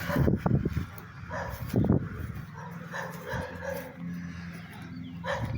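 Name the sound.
dogs barking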